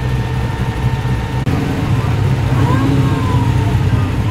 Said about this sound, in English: I think it's that VK that sounds. It's got a bit of a